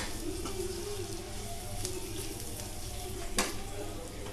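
Chia seeds and cumin seeds frying in hot oil for a garlic mutton roast give a steady, fairly faint sizzle and crackle, broken by one sharp pop near the end.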